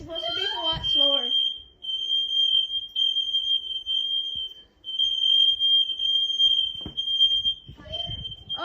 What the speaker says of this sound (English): Playing Minecraft with the smoke alarms in the background.